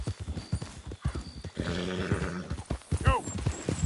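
Horse in Red Dead Redemption 2 setting off at a gallop, with repeated hoof clip-clops and a whinny, close and clear, while a man urges it on between the hoofbeats.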